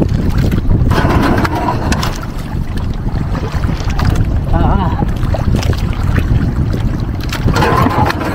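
Boat out on the open water near Sitio Siaten, carrying steady engine and water rumble with heavy wind buffeting the microphone throughout, loud and continuous.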